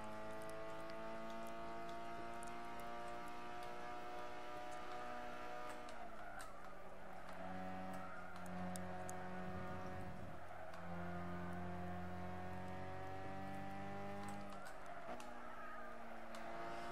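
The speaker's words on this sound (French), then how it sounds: "Oh la voiture! Elle est trop stylée! Elle fait un de ces bruits en plus!" A steady, smooth car engine drone in the video game Gran Turismo 6 holds a constant pitch, dipping and shifting as it changes speed, faint and continuous throughout.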